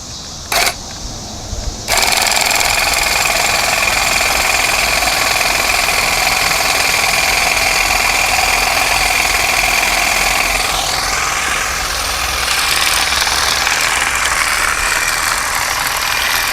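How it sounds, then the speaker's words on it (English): A small engine drives a hedge-trimmer sickle mower mounted on a wheel cultivator, starting up after a brief quiet moment and then running as a loud, steady buzzing drone with a slight shift in pitch as it cuts through grass. "One of the nice things about using a hedge trimmer is it's designed to cut"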